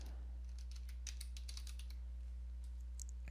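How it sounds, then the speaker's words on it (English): Typing on a computer keyboard in Windows 10, a quick run of crisp close key clicks in bursts over a steady low hum, with no talking. "just start typing directory"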